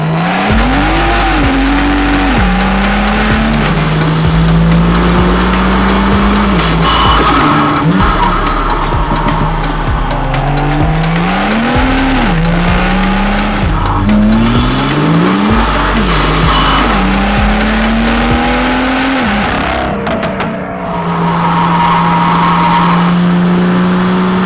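A BMW F87 M2 fitted with an eVenturi intake drives hard, its engine revving up and down through repeated gear changes with loud, close intake and exhaust roar and occasional tire noise, no talking.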